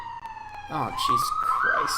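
A siren wails with a rising, sweeping tone, like a police siren nearby, while a man exclaims briefly over it.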